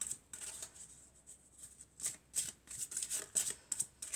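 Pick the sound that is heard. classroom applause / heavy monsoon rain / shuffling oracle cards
shuffling oracle cards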